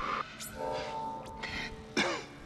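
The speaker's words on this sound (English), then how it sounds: "I like how when he coughs, his cheeks puff out" A character coughs in the sci-fi horror video game Dead Space: a short, throaty cough-like burst near the end, set against a low, steady game ambience and a few faint electronic tones.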